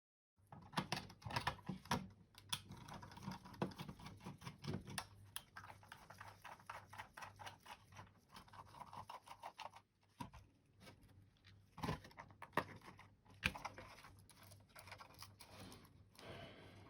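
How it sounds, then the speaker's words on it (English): Small Phillips head screws being unscrewed from a Logitech G502 gaming mouse, with close, quiet clicks and ticks, light scrapes and handling noise recurring at an irregular pace, with no talk. "there's just 4 of them that we need to unscrew using a Phillips head"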